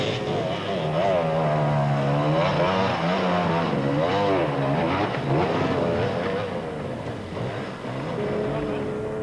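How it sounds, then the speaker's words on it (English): A Toyota Land Cruiser's six-cylinder engine runs loud and raucous on a mountain pass, rising and falling in pitch as it revs and labours steadily at close range, with no pauses. "the Land Cruiser was firing raucously on all 6 cylinders"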